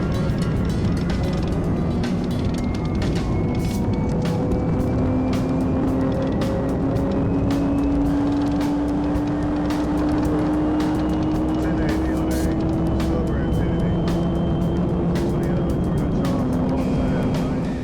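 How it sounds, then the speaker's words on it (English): A car engine roars steadily at speed with rising and falling tones, the drone continuous and fairly loud throughout. "the patrol team identified a silver car moving at a high speed"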